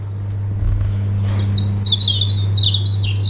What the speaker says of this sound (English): Wow, those birds are so loud.